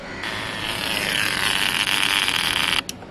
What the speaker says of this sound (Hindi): सो एग्जैक्टली यहाँ से क्रर करके आवाज आ रहा है। That is the voltage converter of our bike.